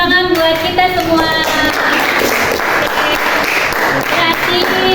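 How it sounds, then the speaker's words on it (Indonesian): A school class applauds loudly after a group presentation, with steady clapping filling the room and a few voices mixed in. "Sekali lagi tepuk tangan buat kita semua."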